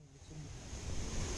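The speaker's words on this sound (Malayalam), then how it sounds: "ഇത് നമ്മൾ വണ്ടി ഒതുക്കേണ്ട അവിടെ നിന്ന് തൊട്ടടുത്ത് കണ്ടൊരു കടലാണ്" Sea waves wash onto the coast near Kozhikode, a broad steady roar of surf with wind rumble, rising slightly, no voices.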